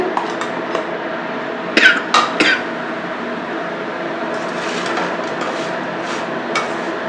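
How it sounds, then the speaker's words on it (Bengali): Fried onion and garlic mixed with a utensil in a pan off the flame, with a few sharp metallic clinks and scrapes in a short cluster amid a quiet steady background. "এরপরে যে পেঁয়াজ আর রসুন ভেজে রেখেছিলাম সেই পেঁয়াজ রসুনগুলো মিশিয়ে দিচ্ছি"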